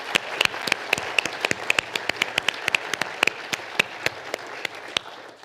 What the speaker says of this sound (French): Nous pouvons applaudir nos personnalités inspirantes du projet entrepreneuriaux.